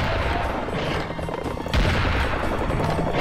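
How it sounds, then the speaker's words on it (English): Heavy gunfire blasts from a double barrel shotgun in the first-person shooter game Serious Sam, loud dense bursts over chaotic combat noise, with a strong booming shot about halfway through. "Got a double barrel shotgun"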